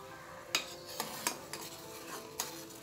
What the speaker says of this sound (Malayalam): ഇനി നമുക്ക് സിമ്മിലിട്ടിട്ട് ഇളക്കി കൊടുക്കണം